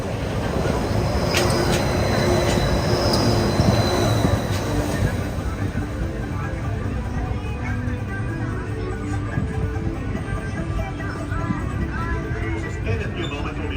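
A Disneyland train rolls along its rails into Tomorrowland Station, a continuous rumbling clatter of wheels with faint metallic squeals, steady and fairly close throughout.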